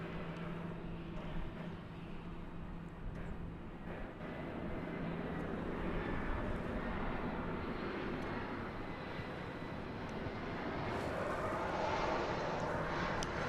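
An American Airlines Boeing 737-800 airliner idles and spools up at DFW Airport before takeoff. Its engines give a steady, distant roar that slowly grows louder.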